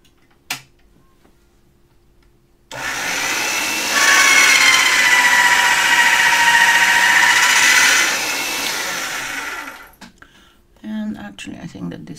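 A rolling machine presses mokume gane metal on its thickest setting, giving a sustained mechanical grinding whine for about seven seconds, with a faint tap before it and a few light knocks after it stops.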